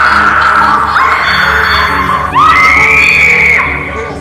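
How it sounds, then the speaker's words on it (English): Wailing, scream-like synthesized tones in Sonic CD (1993) game music, rising in two long sliding cries over a steady droning backing, loud and eerie. "why not throw in some deathly screams while you're at it?"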